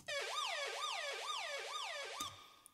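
Synthesized siren effect from a peak time techno track, a rising and falling wail repeating in about five even sweeps, loud and clean, ending in a brief sharp burst.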